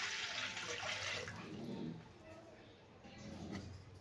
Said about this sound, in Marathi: 2 जग पाणी घातलेलं आहे।